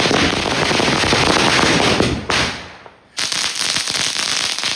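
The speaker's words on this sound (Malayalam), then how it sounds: "മാലപ്പടക്കത്തിൽ നമ്മളിത് അവസാനിപ്പിക്കുകയാണ് നമ്മുടെ പടക്കം പൊട്ടിയത്." A string of firecrackers bursts loudly at close range for Vishu eve in a rapid, continuous crackle. The bursts fade briefly and then resume with dense popping.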